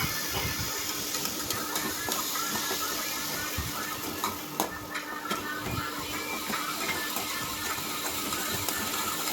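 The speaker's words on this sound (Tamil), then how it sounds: "இப்போ தக்காளி போட்டு வதக்கிக்கலாம்" Tomatoes sautéing in a pan for homemade chicken curry, a steady close sizzle with scattered stirring scrapes and clinks of a utensil against the pan, continuous throughout without talk.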